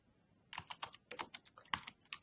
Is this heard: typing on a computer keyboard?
yes